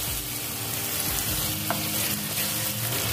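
Onion-tomato masala with green chillies frying in oil for dhaba-style Punjabi chhole, heard as a loud, continuous close sizzle with occasional stirring scrapes.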